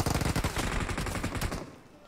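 Rapid bursts of gunfire from a Thompson submachine gun in a shooter video game, a fast rattling string of shots at the start that thins out and fades toward the end.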